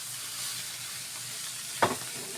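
Mushrooms fry in a pan for creamy mushroom chicken, a constant sizzle broken by one brief scrape and clunk as a utensil stirs them.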